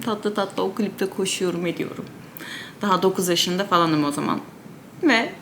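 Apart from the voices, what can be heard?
No everyday noise stands out behind the speech.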